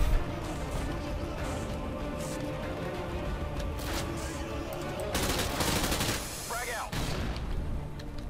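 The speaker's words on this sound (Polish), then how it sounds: "Kto mnie strzela?" Gunfire in the video game Call of Duty: Modern Warfare 2, bursts of rapid automatic shots and scattered single cracks over dense game noise, loud and continuous with a brief whooshing effect near the end.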